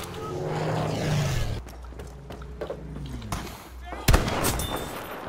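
Kar98 sniper rifle shots in Battlefield V on the Twisted Steel map in France, a sharp loud crack standing out near the end amid rumbling battle noise, explosions and distant gunfire.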